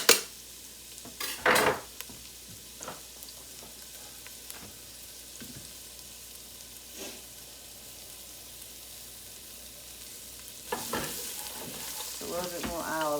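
Onions and garlic sauté in olive oil in a pan, a quiet steady sizzle with occasional scrapes and clinks of a utensil stirring against the cookware.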